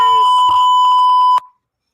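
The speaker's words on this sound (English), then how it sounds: "The censor beep. That was terrible." A loud, steady electronic beep tone sounds continuously for over a second, then cuts off abruptly.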